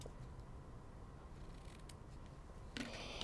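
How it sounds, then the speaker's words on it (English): Scissors snip ribbon bow tails on a handmade greeting card, with faint handling rustle through most of the clip and a short, louder burst of close cutting near the end. "you can trim those tails off a little bit more"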